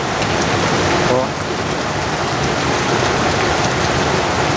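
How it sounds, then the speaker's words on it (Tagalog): Heavy rain pours in a dense, steady roar, with water gushing out of a hole blended into the constant loud hiss throughout. "Ganyan dito pag umuulan na malakas, lumalabas yung tubig dyan sa ano, butas."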